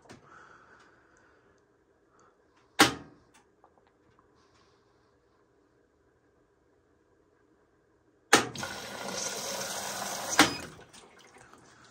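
An Amana washer showing an LF error code fills with hot water. A faint background hum and one sharp click give way to a sudden loud rush of inflowing water lasting a few seconds, with no talking.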